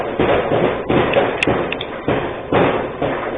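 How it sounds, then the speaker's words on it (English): Firecrackers banging during New Year's Eve in Manila, heard muffled from a rear bedroom of a bungalow: a steady run of dull thuds and booms rolling into one another, with a few sharper cracks standing out. "gradually more and more bang bangs. Firecrackers."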